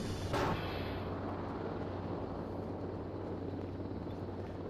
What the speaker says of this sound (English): We're just going to listen to drone noises all night.